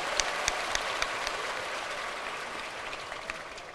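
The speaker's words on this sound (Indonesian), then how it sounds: "Tepuk tangan lagi untuk Ayah." A small audience applauds at a lively presidential quiz event in Indonesia, with steady, even clapping throughout and a few sharper claps near the start.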